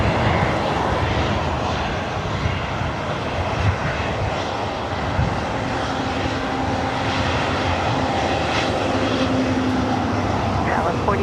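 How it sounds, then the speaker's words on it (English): A massive Airbus A380 roars in on landing approach at LAX's north-side runways, a steady, loud engine drone with a low whining tone running unbroken throughout, with voices audible over the noise. "We're looking like back-to-back A380 arrivals here on the north side"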